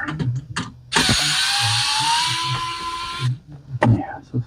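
An electric screwdriver whirs steadily for about two seconds, backing out screws during a teardown of an Xbox 360 S 1439 console, with short clicks and ratcheting before and after and a voice talking around it, close up.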